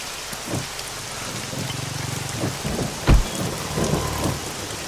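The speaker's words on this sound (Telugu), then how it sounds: "వాన బాగా కుమ్మేస్తుంది కదా అంటున్నా" Heavy rain pours steadily, a dense hiss with low rumbling thuds and a sharp crack about three seconds in, no voices.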